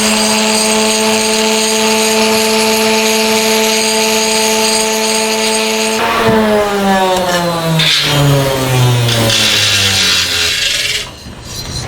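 A rotary tool whines at a steady high pitch while it ports the intake of a 2-stroke motorized bicycle engine, then grinds against the metal so that its pitch slides down and wavers, close and loud.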